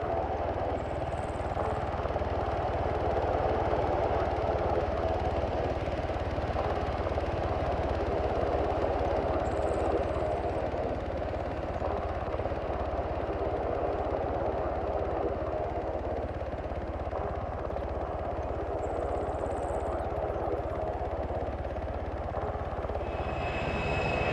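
An aircraft in Arma 3 taxiing toward the runway, its engine giving a steady loud drone that holds throughout with little change and no talk.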